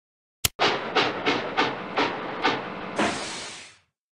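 A toy train clatters along its track in a steady series of rhythmic clicks, close and fairly loud, then ends with a short hiss.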